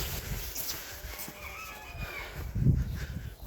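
An Australorp hen in a backyard poultry run gives soft, brief clucks against quiet outdoor background noise, with a slightly louder call near the end.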